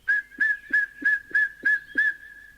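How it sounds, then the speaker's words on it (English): A person whistles seven short, clear notes in an even, steady rhythm, each one a bright single-pitch toot with brief pauses between. "stood beneath the old oak tree and whistled loudly 7 times"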